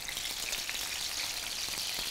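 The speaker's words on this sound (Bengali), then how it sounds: "এবার সর্ষের তেলটা গরম হলে তাতে আমি আবার দেব সেই মশলাগুলো, একটু বেশি করে পেঁয়াজ বাটা" Onion, ginger and garlic pastes frying in hot mustard oil give a steady, close, broadband sizzle that stays even and dense throughout, with no voices.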